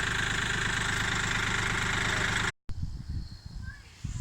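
A Kioti CK 3510 compact tractor's diesel engine idles close by with a steady loud rumble that cuts off abruptly, then a quieter, rougher engine sound continues with voices talking over it.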